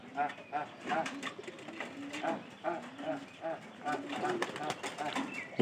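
Pigeons kept by a keeper coo in a repeated soft rhythm, close by, with some fluttering and a person talking over them.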